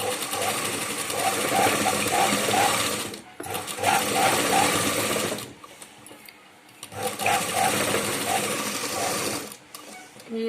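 A sewing machine stitches blouse lining in three rapid, rattling runs separated by short pauses, close and clear, with a voice talking during the gaps.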